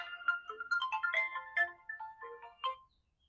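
Mobile phone ringtone playing a bright electronic melody of quick rising and falling notes, clear and close, stopping just before the end.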